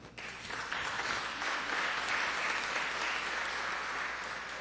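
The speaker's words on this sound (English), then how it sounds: "Let's give him a good round of applause" A round of applause from lawmakers and guests in the Mississippi State Senate chamber, steady and moderately loud for several seconds.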